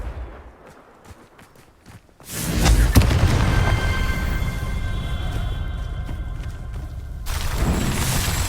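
The Confringo fire spell explodes in Hogwarts Legacy, a loud fiery blast followed by sustained roaring crackle that holds for several seconds. A second burst swells near the end. Quieter game ambience comes before it.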